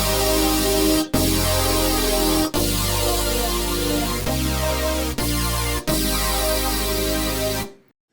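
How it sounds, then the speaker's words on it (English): A lush future bass synth pad made in Ableton Live with Operator and instrument racks plays loud, sustained chords that change every second or so with short gaps between them, then cuts off abruptly at the end. "So the sound we're going to wind up with is something like this."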